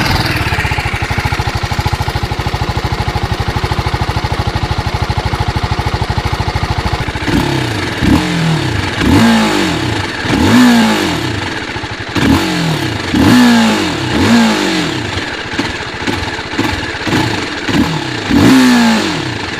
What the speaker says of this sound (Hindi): तो this is how the motorcycle sounds